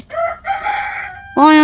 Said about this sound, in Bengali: হাঁস মুরগির ডাক কি সুন্দর লাগে।